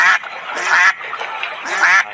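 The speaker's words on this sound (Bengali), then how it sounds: "ও আবার সামনে দিকে হাঁসও আছে" A cartoon duck quacks in a Bengali animation, giving three loud, nasal bursts of calls spaced evenly across the short stretch, close and clear with nothing else beneath.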